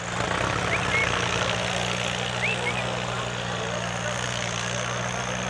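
A tractor engine drones steadily with a deep, even, close rumble at a village tractor-pulling contest held at the Akalpur rural sports fair, with faint whistles and crowd noise behind.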